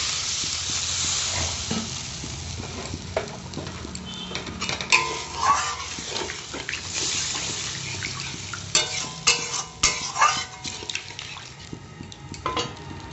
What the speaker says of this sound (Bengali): কষানো হয়ে গেছে জল দিয়ে দিচ্ছি